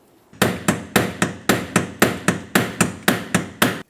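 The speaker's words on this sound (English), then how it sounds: "continue on with a small pry bar and a hammer and just give it a couple loving bonks" A hammer strikes a small pry bar against a 1994-2002 Dodge Ram 2500 fuel tank ring about a dozen times in a steady, even rhythm, each sharp close bonk ringing briefly before the next.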